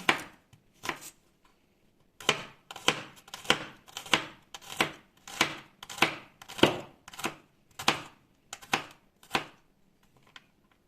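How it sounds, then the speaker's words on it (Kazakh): A knife chopping garlic cloves on a cutting board, heard as a series of about fifteen crisp, evenly spaced taps in bursts, close and clear, with no talking between them. "Сарымсағымызды да бірнеше бөлікке бөліп ұсақтап тураймыз."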